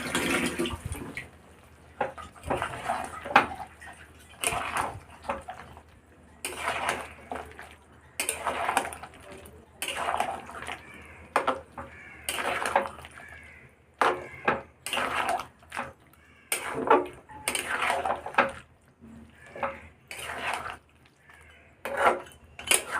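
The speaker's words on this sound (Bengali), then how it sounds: "এবার আমি ভালো করে নাড়িয়ে চাড়িয়ে ঢাকা দিয়ে মাংসটাকে মিডিয়াম ফ্লেমে কষাবো।" A spoon works spiced meat around a pot over a medium flame, producing repeated bursts of scraping and clattering about every second, separated by short quiet gaps.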